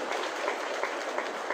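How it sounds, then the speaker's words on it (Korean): A church congregation gives a short burst of applause during a worship service. The clapping is a dense, even wash of many hands at moderate volume, with no voices over it. "은혜 주신 하나님께 영광의 박수 한번"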